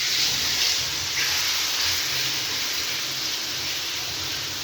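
Fish frying in hot cooking oil for fish tikka masala gives a loud, close, steady sizzling hiss that carries on evenly without a break.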